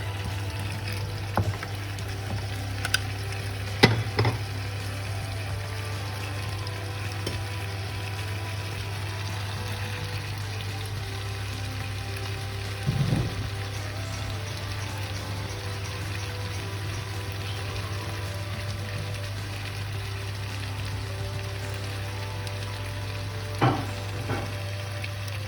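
Beef, green beans and tomatoes stir-frying in a wok, a quiet steady sizzle beneath a constant low hum, broken by a few sharp clinks of a utensil against the pan.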